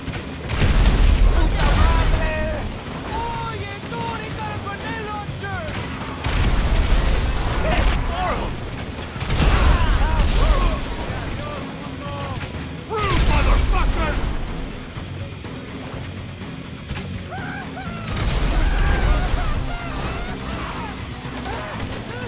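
Gunfire and heavy explosions from Grand Theft Auto 5 on Xbox 360 boom in repeated loud blasts every few seconds, with crashes and game dialogue mixed in.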